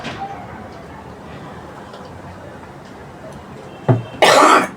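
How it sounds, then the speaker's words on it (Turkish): A man coughs after something went down his windpipe while he has the flu: a faint throat sound early on, then a sharp cough near the end followed by a louder, harsher burst of coughing. "Şimdi nefes boruma gitti de o yüzden öksürdüm."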